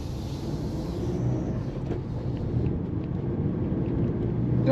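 A Mazda MX5 ND sports car pulling out into traffic, heard from inside as a low, steady engine and road rumble that builds gradually, with no talk over it.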